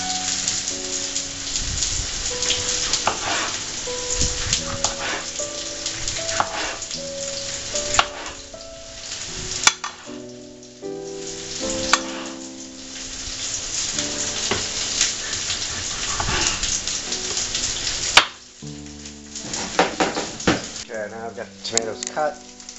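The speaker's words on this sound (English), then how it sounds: "I'm throwing the onion with my hand because on the other hand I've got the camera" Onion, together with whole garlic, frying in a pan for a Spanish tortilla de tomates gives a busy sizzle that sits under prominent music, with occasional louder knocks.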